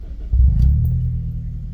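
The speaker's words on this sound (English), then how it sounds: "I gotta start my car." An old Honda car's engine starts with a quick low crank and catches into a deep, close rumble that settles to a steady idle within a second.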